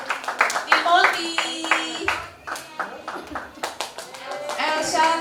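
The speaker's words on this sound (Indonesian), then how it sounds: "Tepuk tangan dong buat teman-temannya yang rajin ibadah." A children's Sunday school group at a Christmas church service claps in quick, uneven bursts, close and fairly loud, while children's voices chatter and call out over the clapping throughout.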